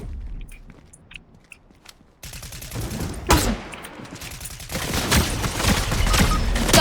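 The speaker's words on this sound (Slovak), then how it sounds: "Neviem, kde už strieľajú po mne." Gunfire in the Fortnite video game crackles in dense, rapid bursts, starting with scattered sharp shots and then swelling into a sustained loud volley, with no voices over it.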